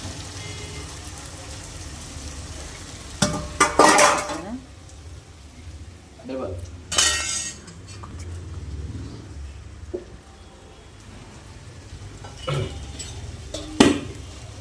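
A metal spoon scrapes and clanks against a pan while stirring rice with salt, in a few scattered bursts, with quiet stirring and low background noise between them.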